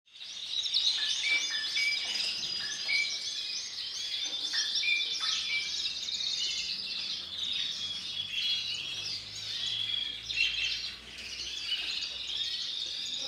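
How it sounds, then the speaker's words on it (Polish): Canaries and exotic birds, parrots among them, sing and chirp together at a bird exhibition in Nowa Huta, a dense, continuous chorus of high trills and tweets filling the hall without pause. "Są ptaki wielu gatunków, są papugi, są kanarki kształtne, kolorowe, kanarki śpiewające."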